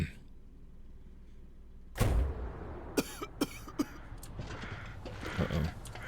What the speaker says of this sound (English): I don't know if I ever remember him coughing like that before